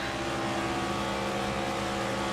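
Stock cars in a racing video game roar in a dense pack around the Talladega oval, a continuous loud engine drone with overlapping tones and no talk.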